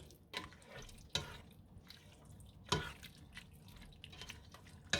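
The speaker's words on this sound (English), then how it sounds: "You just put everything inside the pot. Then I'm going to stir it." Fettuccine alfredo ingredients, pasta, mushrooms and cream, being stirred in a pot: a few soft wet scrapes and clinks spaced a second or so apart, quiet and close with no talking.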